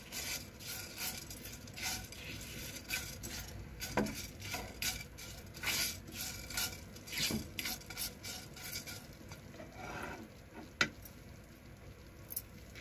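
Coriander and fenugreek seeds roasting in a little oil in a pan give a faint, steady scratchy stirring and soft pattering, with occasional scrapes of a spoon against metal, quiet and close.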